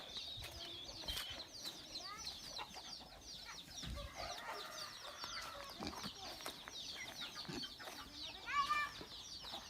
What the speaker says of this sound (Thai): มีเป็ดไก่